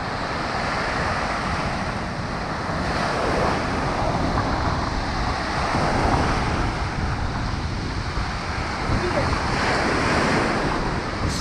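Storm waves pound Ordzhonikidze beach in Crimea, a steady loud roar of surf with crashing breakers and strong wind buffeting the microphone throughout.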